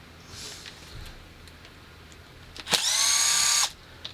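A power drill whirs in a single close, loud burst of just under a second as it backs out screws during an overhaul. Quiet handling sounds and small clicks come before it, and no one speaks.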